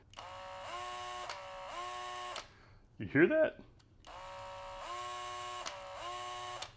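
Skil cordless drill motor whining in two sustained runs whose pitch steps and stutters as the trigger is pulled, with a short clattery burst in between and a brief spoken question.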